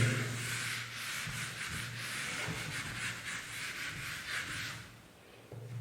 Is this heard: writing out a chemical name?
no